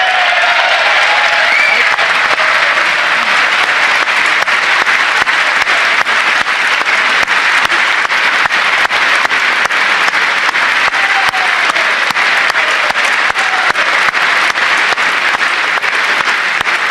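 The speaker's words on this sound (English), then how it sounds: "We could play more applause, but I think you get the point." At a CPAC health care panel, a recording of crowd applause plays loud and sustained for about seventeen seconds, with continuous dense clapping and light cheering throughout.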